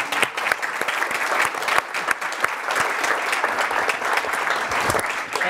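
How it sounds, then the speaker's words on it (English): An audience at a university energy seminar claps for the panelists with dense, close clapping throughout, with a few sharper individual claps standing out. "why don't we applaud?"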